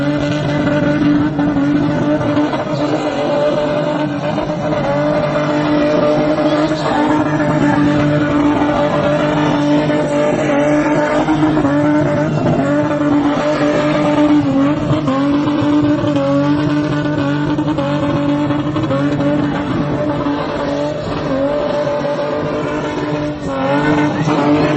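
Racing cars roar loudly and steadily throughout at a motor club event, engines droning close by with tire squeal and skidding mixed into the continuous noise, no talk.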